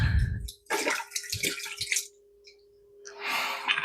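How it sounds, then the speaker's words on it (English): Cider vinegar poured into a pan on medium heat while making purple mango and pineapple jam, with bursts of splashing liquid, brief pauses and a steady faint hum underneath. "the first thing we're going to add is cider vinegar"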